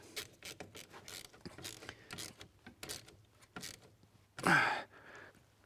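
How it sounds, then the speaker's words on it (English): A socket wrench tightening a steering column clamp, giving a series of close, rhythmic ratcheting clicks, followed by a brief louder burst of noise near the end. "bring my socket down and tighten up the clamp"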